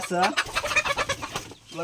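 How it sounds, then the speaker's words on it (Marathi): Free-range chickens cluck and squawk close by in quick, busy bursts as they run about their coop in the evening, with a voice speaking briefly. "आपल्याला बघून कोंबडी बघा कशी पळत आहे"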